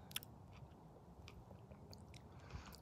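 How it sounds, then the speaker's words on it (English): Soft, close chewing of a freshly picked ripe blackberry in a backyard berry patch, faint wet squishes and a small crunch or two at the start, quiet and without talking. "So I'm gonna taste this one."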